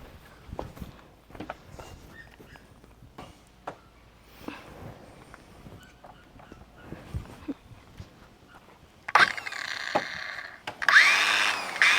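After several scattered knocks and clunks, a power drill whirs loudly in two short bursts toward the end.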